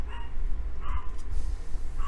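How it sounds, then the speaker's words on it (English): Pet dogs bark indoors, a few distant, muffled barks spaced across two seconds beneath a steady low background rumble. "My dogs are going nuts."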